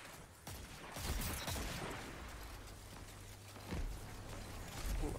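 Destiny 2 competitive gunfire comes as a few sharp shots and bursts at a moderate distance, mixed into busy, noisy game ambience and rumble.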